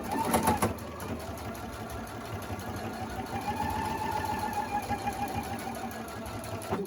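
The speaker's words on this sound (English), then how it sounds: "That is the spot we are going to sew straight down." A sewing machine stitching a fabric face mask, running steadily close by with a fast, even mechanical whirr and clatter throughout, a little louder in the opening second.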